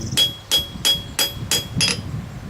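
Rivet hammered by hand during forging work on a compass for a square: six evenly spaced, sharp metallic hammer strikes ringing close up, with nothing else heard.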